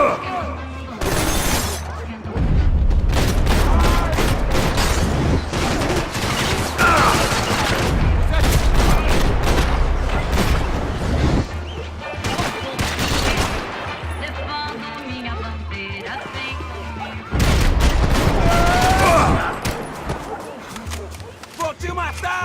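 Rapid gunfire bursts from the 2012 PC game Max Payne 3, loud volleys and shattering crashes that come in waves, with in-game voices shouting over the shooting.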